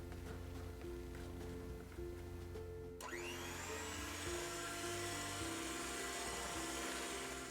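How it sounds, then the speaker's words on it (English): An electric hand mixer beats eggnog bread batter, a loud steady whir that rises sharply in pitch partway through and then runs on without pause. "And beat that until it is nice and smooth"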